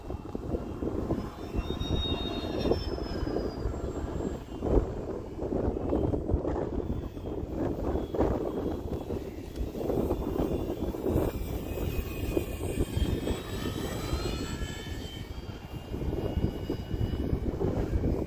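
An RC model F4U-4 Corsair airplane flies overhead, its engine a steady droning whine with a few swells in pitch, carried over a constant wash of wind noise.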